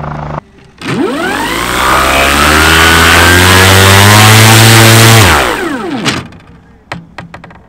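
Electric motor and propeller of an LS8-e neo glider running on the ground, spinning up to a loud steady whine with strong tonal harmonics, holding for several seconds, then winding down, followed by faint clicks.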